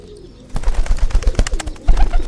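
Dove cooing close by, a series of soft, deep, rhythmic coos and bubbling calls, loud and alone with no talking.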